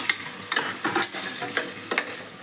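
A tomato fries and sizzles in a pan for chicken biryani, with a steady hiss broken by repeated scraping stirs, close and fairly loud, and no talk.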